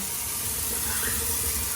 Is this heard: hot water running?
yes